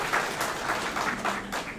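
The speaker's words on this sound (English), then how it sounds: "round of applause for that" A brief burst of audience clapping at a live fan event, moderately loud and steady throughout the short stretch.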